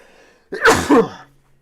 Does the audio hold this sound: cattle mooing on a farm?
no